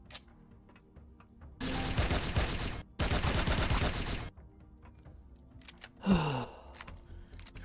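Gunfire erupts in the space survival game Empyrion, where a sniper is present, as two sustained bursts of rapid shots separated by a short pause, followed by a single swooping impact against a quiet background.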